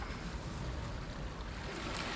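Steady wash of sea waves surging up the shore at Porthkerry, a continuous broad rushing roar with light wind noise and no voices.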